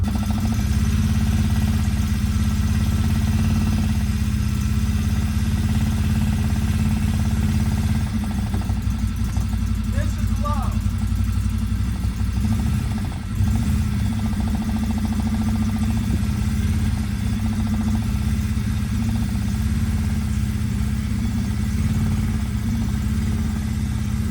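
The engine of a 2023 CFMOTO UForce 1000 UTV fitted with an RNG clutch kit drones loud and close in a steady low rumble, holding a constant pitch for the whole stretch, with no talk.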